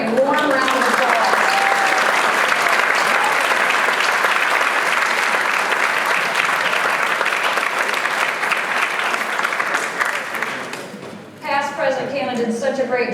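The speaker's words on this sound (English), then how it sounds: "Let's all give them a warm round of applause." An audience at a Rotary Club of Atlanta meeting gives a long, loud round of applause welcoming new members, sustained dense clapping that fades briefly near the end before voices come in over it.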